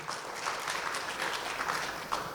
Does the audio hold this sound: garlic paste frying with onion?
no